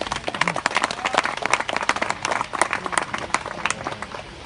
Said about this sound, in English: Round of applause for Tom.